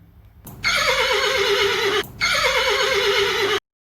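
A horse whinnies twice in close succession, each neigh loud, bright and shaky, with a brief pause between them.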